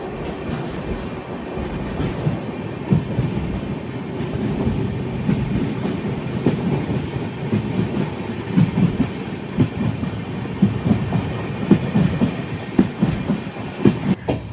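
The Kamrup Express passenger train runs on the rails in a steady low rumble with rhythmic clicks and clacks of the wheels, heard from on board and growing a little busier toward the end.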